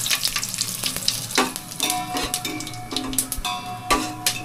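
Whole spices crackle and sizzle in hot oil in a pan, close and fairly loud, with scattered pops and a few stirring clicks over a steady fry, no voices.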